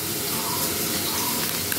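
Water pours onto ground cumin spice to make a paste, a brief, close, steady splashing trickle.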